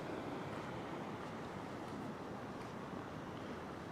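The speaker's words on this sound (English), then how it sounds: "The waves are just really rolling past here very gently." Gentle ocean waves roll past rocks at the shoreline, a continuous soft wash of surf with light wind noise, steady and moderately quiet throughout with no talking.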